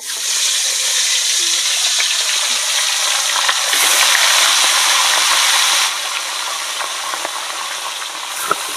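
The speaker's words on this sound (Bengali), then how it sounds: "এবার মাছটা আমি ভেজে নেব" Loud, continuous sizzling of tilapia fish frying in hot oil, crackling and hissing steadily, easing slightly toward the end, with occasional clinks.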